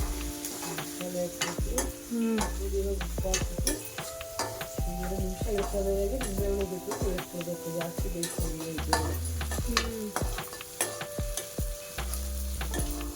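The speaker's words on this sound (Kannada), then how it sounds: "ಈರುಳ್ಳಿನ ಹುರ್ಕೋಬೇಕಾ ಈಗ?" Onions sizzle and fry steadily in a hot pan for Karnataka-style masala chitranna, with frequent spatula stirs and metal clinks against the pan throughout.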